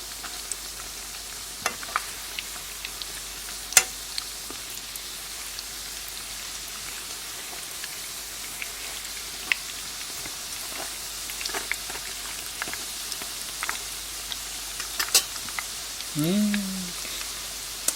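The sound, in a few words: pirozhki frying in a pan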